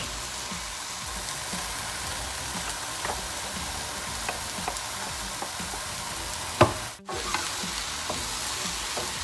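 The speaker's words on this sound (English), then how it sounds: "So now I'm going to add in the onions and the garlic." Onions and garlic frying in a pan with mushrooms for a mushroom stroganoff, a steady close sizzle with stirring scrapes throughout and a brief dropout near the end.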